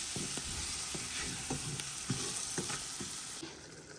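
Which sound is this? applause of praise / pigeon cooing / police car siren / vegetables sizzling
vegetables sizzling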